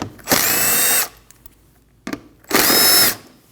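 Power tool, likely an impact driver or drill, backing out two 8 mm bolts from a 2013-2019 Ford Escape fender liner: two loud, steady whirring bursts of about three-quarters of a second each, with a short clunk between them.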